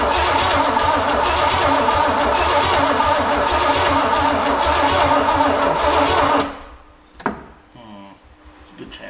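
A Pontiac GTO Judge engine, abandoned in a barn with dry rings, cranks over loudly after a shot of brake cleaner. The steady, harsh churning runs for about six seconds, then cuts off into a few quieter clunks and rattles.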